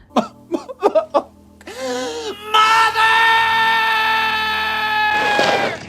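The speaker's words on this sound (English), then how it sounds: "Ooh, that was a good yell." A woman screams long and loud in a 1986 horror film, Psycho III, after a few short breathy cries, the sustained shriek holding for several seconds before breaking off.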